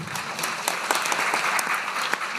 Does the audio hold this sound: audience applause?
yes